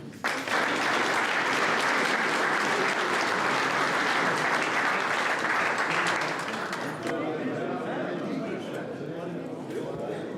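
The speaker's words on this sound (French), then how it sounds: "de tout cœur, nous vous applaudissons" Applause at a retirement celebration after a toast, a loud sustained round of clapping from a gathered group that gradually thins toward the end.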